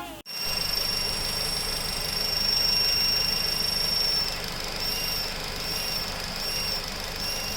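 A Honda Civic FN2 engine runs with pressure applied at the intake manifold, giving a steady close mechanical drone with a high whining squeal over it, continuous after a brief knock at the start.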